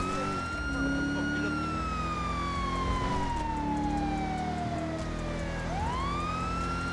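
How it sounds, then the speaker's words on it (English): Police car sirens wailing continuously in the video game Police World AI Police Simulator, several overlapping tones sweeping up and down, loud and steady over engine rumble. "Just spam all the fucking sirens."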